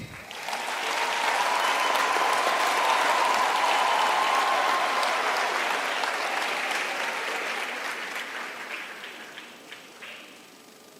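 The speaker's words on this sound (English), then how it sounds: "let us give the graduates a thunderous round of applause" Audience applause for graduates at a university spring graduation ceremony, a loud sustained wash of many hands clapping that swells, holds for several seconds and slowly fades toward the end.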